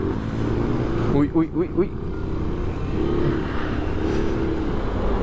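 An AKT RTX 150 motorcycle rolls downhill on a mountain road near Ciudad Bolívar, Bogotá, with a steady close engine drone and wind rush. A rider's voice briefly cries out over it.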